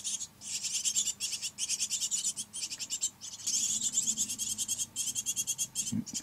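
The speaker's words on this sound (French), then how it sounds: "Ah oui c'est bien un faux bourdon." Male drone bees buzzing around a nest box in an orchard, a continuous close, pulsing drone that swells and fades in repeated bursts, with no talk over it.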